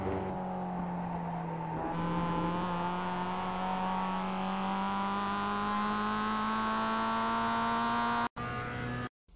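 A Mazda MX-5 race car at Okayama in iRacing holds a loud, steady engine drone that slowly climbs in pitch, then cuts off abruptly near the end.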